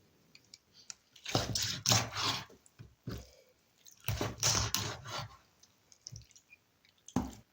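A large sharp knife cuts chicken backs in half, giving two bursts of loud, crunchy cracking and squishing close up, separated by a pause with a single snap, then one more short crack at the end.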